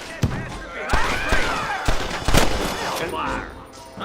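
Red Dead Redemption shootout: repeated sharp rifle and pistol shots crack out in uneven bursts, some heavy booming hits among them, loud and close, with character voices shouting over the fire.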